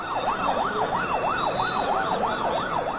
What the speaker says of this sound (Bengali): উৎসুক জনতা আর আতঙ্কিত হাজার হাজার মানুষের ভিড় ঠেলে একটু পরপরই অ্যাম্বুলেন্স বেরিয়ে আসতে থাকে